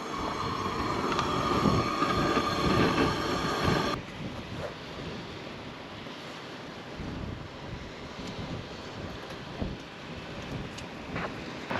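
A strong northeast wind gusts over open water, a loud, rough roar buffeting the microphone for the first few seconds, then easing into a steady windy wash with faint surf underneath.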